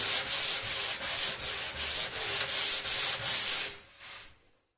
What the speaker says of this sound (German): Die Überstände werden auch weggeschliffen.